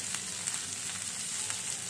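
Onion, tomato, green chillies, ginger, garlic and cashews sizzling steadily in a pan for halwai-style matar paneer, a continuous close frying hiss with faint stirring scrapes.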